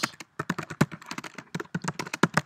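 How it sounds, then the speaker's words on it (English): Rapid typing on a computer keyboard, close and crisp, with bursts of quick key clicks separated by brief pauses and no talking. "see my typing skills"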